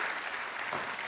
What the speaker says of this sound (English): Give them all a round of applause that they did an amazing job.